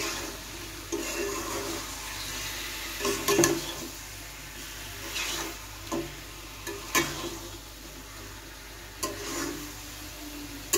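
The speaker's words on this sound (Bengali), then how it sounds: "মাংস দেওয়ার পর মশলাগুলোর সাথে মাংসগুলো ভালো করে নেড়েচেড়ে মিশিয়ে নেব।" Chicken pieces fry in a spiced masala while being stirred, giving a low, soft sizzle broken by occasional spoon scrapes and clatters against the pot.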